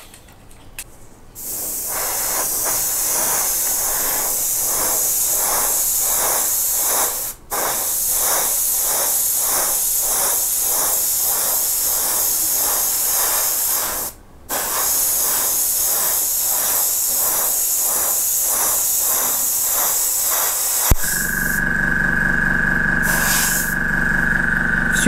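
An airbrush sprays Tamiya LP-45 Racing Blue metallic lacquer in a loud, continuous hiss, broken twice by short pauses, with rapid pulsing texture; a different hissing tone follows at the end.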